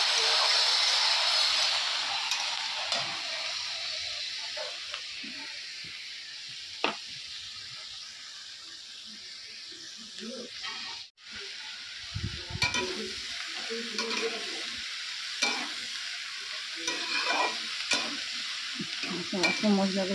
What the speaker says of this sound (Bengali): তো চিংড়ি মাছগুলো দিয়ে দিই।